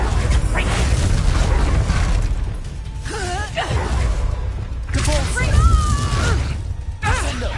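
Spell blasts and rumbling booms in the Hogwarts Legacy video game, heavy low-end thumps with whooshing bursts and mechanical clatter, broken by short voiced shouts across the battle.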